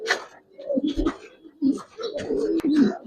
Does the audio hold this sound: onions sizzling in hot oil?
no